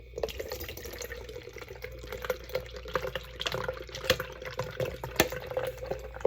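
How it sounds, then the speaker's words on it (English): Iced coffee from an 8-ounce Twix can is poured into a plastic cup, making a continuous close liquid trickle with small splashes and gurgles, steady and fairly loud with no talk. "we're going to pour in, this is a 8-ounce can of Twix iced coffee"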